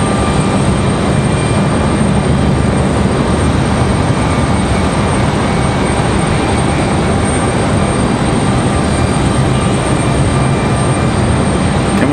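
A United airliner takes off at Raleigh-Durham airport, a loud, steady, broadband jet engine roar that holds constant throughout.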